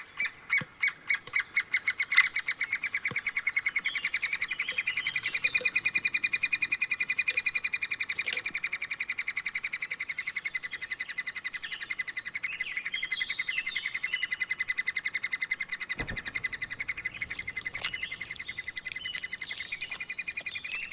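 Three-toed woodpecker chicks beg constantly, a dense, shrill stream of rapid squawking calls that keeps going without pause, fairly close.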